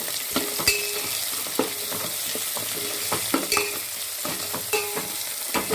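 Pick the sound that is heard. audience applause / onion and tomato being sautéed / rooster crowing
onion and tomato being sautéed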